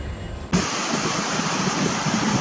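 Ocean surf waves rolling in at Noosa, Australia, a broad steady wash of breaking water that swells up loudly after a brief quieter opening and then holds constant with no voices.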